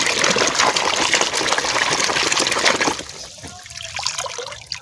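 Water gushes loudly over a muddy toy car for about three seconds, then cuts back to a softer trickle and splash as the cleaning goes on, with no talking.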